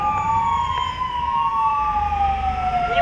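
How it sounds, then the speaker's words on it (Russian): Emergency vehicle sirens wail during a fire evacuation drill, a loud, steady rising and falling tone with a second siren layered underneath over low engine rumble. "Вой сирен, оперативное появление спецтехники и срочная эвакуация."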